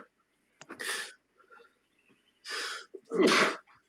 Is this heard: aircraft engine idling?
no